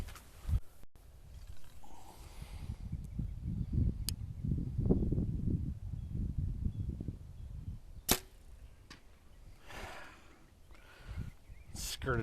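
An arrow released from a bow strikes milk jugs in a backyard test of heavy versus light arrows: a sharp snap and thwack, then another impact later, over faint background rumble and outdoor ambience.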